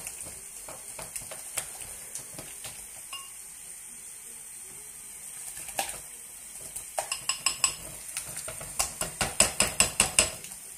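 Eggs being stirred in a bowl: a metal utensil clinks and scrapes against the bowl, sparse at first, then speeding into a fast, regular run of sharp taps toward the end, close and clear with no talking.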